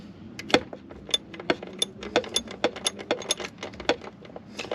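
Ratchet wrench working a stuck bolt near the airbox of a Kia Soul, producing a rapid run of sharp metallic ticks and clicks in uneven bursts, close and distinct, without speech.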